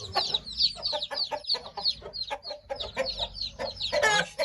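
A hen clucks repeatedly, near and fairly loud, in a steady run of short calls while chicks hatch from eggs, ending with a brief burst of harsher noise.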